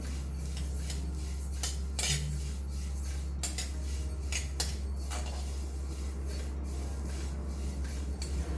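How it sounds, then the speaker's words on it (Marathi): Sesame seeds roast over medium heat in a kadai while a spoon scrapes and rattles through them in irregular strokes, with a steady low hum behind and a few sharper clinks. "आता याच कढईमध्ये आपल्याला तीळ भाजायचे आहेत अगदी मीडियम वरती"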